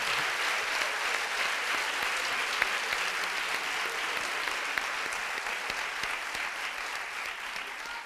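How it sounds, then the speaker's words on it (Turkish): Sustained applause fills an event hall at a children's conference as an audience claps for a speaker's mother seated in the front row, steady and dense throughout with no break. "Anneme bir tane daha alkış alabilir miyiz lütfen?"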